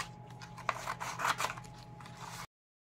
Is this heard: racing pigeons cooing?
no